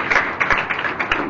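Audience clapping in welcome at a spiritual gathering honoring Gurudev Shri Kanji Swami, a thin patter of claps with a few louder bursts, fairly close and steady, no voices over it.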